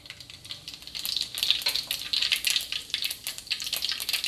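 Mustard and cumin seeds sizzling and popping in hot oil, a close, dense crackle of rapid tiny pops that builds after a quieter start and keeps spluttering steadily.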